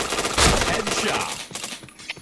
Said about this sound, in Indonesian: Nembak apa lah aku coba